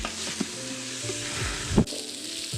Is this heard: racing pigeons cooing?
no